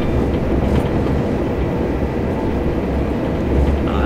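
A train rumbles steadily along at speed in Train Simulator 2018 on a Brighton to Cambridge service, a loud continuous low roar with faint rail clatter and no talk.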